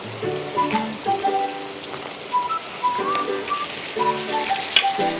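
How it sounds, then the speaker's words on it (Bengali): Pumpkin frying in a spice masala as it is stirred, a steady sizzle with repeated scraping strokes, fairly close and moderately loud, with a faint whistle-like tone running through it. "কষানোর এই পর্যায়ে আমি মিষ্টি কুমড়াটা দিয়ে ভালো মতো কষিয়ে নিব।"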